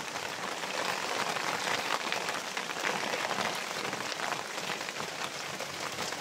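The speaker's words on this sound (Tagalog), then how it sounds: "Ang lakas ng ulan" Heavy rain pours steadily onto a surface, a dense, constant hiss of drops with no pauses, loud and close throughout.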